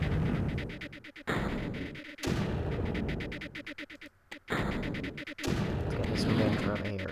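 A mortar and blaster fire in the Creeper World video game, rapid crackling bursts of shots coming in several separated volleys, with quiet gaps between them.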